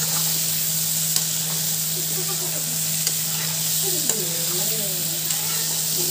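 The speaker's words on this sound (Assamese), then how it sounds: "এতিয়া আন্দাটো দি দিওঁ আন্দাটো দি লৰাই দিওঁ অকণমান" An egg is stirred in a hot frying pan, a loud continuous sizzle with a steady hiss and occasional scraping stirs over it, close up.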